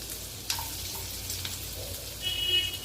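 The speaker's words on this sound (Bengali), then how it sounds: "বাটারের সাথে রসুন ভাজলে না একটা অসাধারণ গন্ধ বেরোয়" Chopped garlic frying in butter gives a soft, steady sizzle close by, with a faint clink of stirring near the start.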